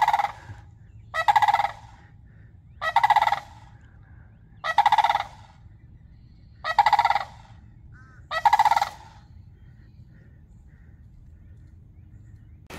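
A bird gobbles like a turkey in five loud, evenly spaced bursts over a low outdoor hum, heard at an airgun tuning session with no talk.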